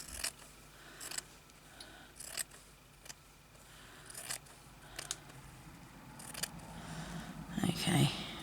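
Scissors snipping through fabric for crazy patchwork, a series of short crisp cuts at close range with quiet rustling between them, growing busier toward the end.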